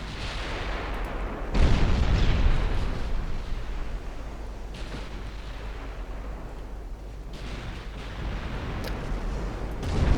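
Heavy 15-inch battleship guns firing and shells hitting in the naval game Ultimate Admiral Dreadnoughts, a deep booming salvo followed by a long rolling rumble with further distant thumps, loud and continuous.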